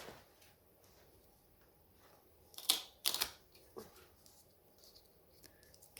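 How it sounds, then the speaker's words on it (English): Damaged Monstera deliciosa leaves being cut with two quick, crisp snips close together, followed by a softer click, against a quiet indoor background. "Some of the leaf are very bad, so I am just going to"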